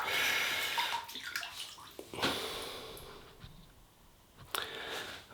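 Running water from a tap splashes onto a shaving brush being wetted, a close hissing stream with irregular splashes and a few sharper bursts as the bristles move under the flow.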